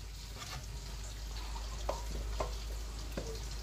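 Peanuts fry in hot oil with a soft, steady sizzle, broken by a few sharp clinks of a utensil stirring in the pan, close and fairly quiet.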